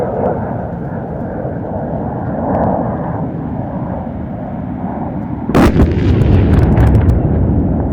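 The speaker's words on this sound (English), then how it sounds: "The bombs have been released." Air-dropped bombs strike a target during the Indian Air Force's Vayu Shakti 2019 firepower demonstration. A steady distant rumble breaks into one sudden heavy blast, followed by a sustained rolling roar.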